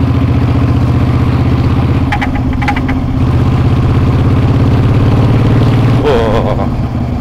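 A Kaisar Ruby 250 custom bobber's V-twin engine idles close by with a loud, uneven, lumpy throb, a few brief clicks in the middle and a slight rev near the end.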